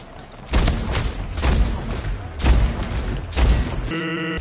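Gunfire in the Halo video game, four loud rhythmic bursts of shots about a second apart, each a heavy booming volley, ending with a short tonal game effect.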